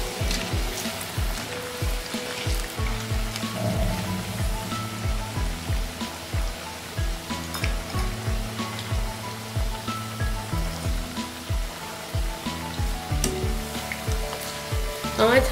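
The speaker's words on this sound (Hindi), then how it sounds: "ये हाई फ्लेम पे हम इसको फ्राई करेंगे, वो भी डीप फ्राई" Potatoes deep fry in hot oil over a high flame with a dense, continuous sizzle and crackle, and clinks and taps of cookware come through now and then.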